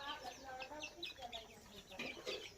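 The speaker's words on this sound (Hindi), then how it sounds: "अभी हम लोग जो पाल रहे मुर्गी उसको दाना दे रहे हैं" Chickens cluck and chirp nearby in a busy outdoor yard while being fed grain, with murmured voices mixed in under the birds.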